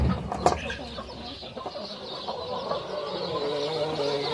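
Free-range hens cluck softly near a nest in a farmyard, with a few sharper calls early on and a low rustling background.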